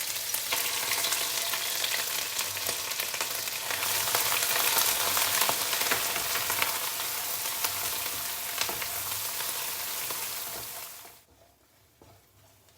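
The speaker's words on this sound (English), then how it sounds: "I will heat up the cooking oil. Saute the blended mixture." Blended sambal terasi paste frying in hot cooking oil, a loud, dense, continuous sizzle with faint stirring scrapes, close up, running steadily before cutting off abruptly near the end.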